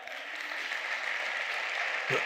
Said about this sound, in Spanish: Dar un aplauso al rey